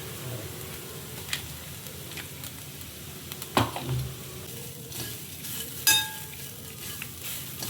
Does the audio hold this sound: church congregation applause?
no